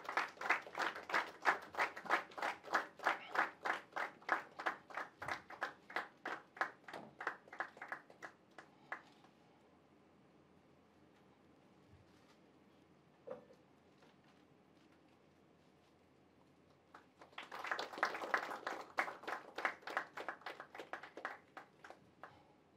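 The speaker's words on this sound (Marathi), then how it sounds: "आपण सर्वांनी टाळ्या वाजून त्यांचे अभिनंदन करावे." Audience clapping for an award presentation honouring Ramesh Patange at a Shankarrao Kharat centenary event: a rhythmic, even round of applause that stops for a long quiet stretch, then a second burst of clapping returns.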